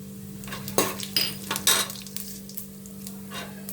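Shahi jeera cumin seeds drop into hot oil for vegetable biryani and sizzle close by, with a few sharp clinks and stirring scrapes from a metal utensil against the pan over a steady hum.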